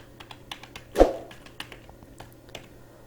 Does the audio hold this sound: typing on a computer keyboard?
yes